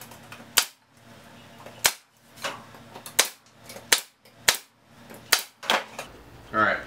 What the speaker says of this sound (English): Staple it in.